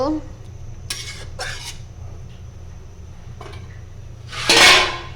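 Rohu fish head cooking with mung dal in a pot, a spoon scraping and clanking against the metal in a few separate bursts over a soft low sizzle, ending in one louder, longer scrape, all close by.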